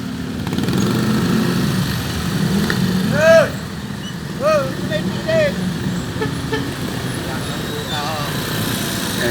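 Congested road traffic of motorcycles and trucks beside an overturned dump truck: a constant low engine rumble with several short horn toots rising above it, and voices talking faintly in the background.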